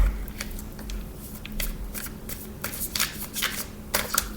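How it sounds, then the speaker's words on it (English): Tarot cards are shuffled repeatedly in quick riffling bursts, close and crisp, with short pauses between shuffles and no talking. "I shuffle some more for you now."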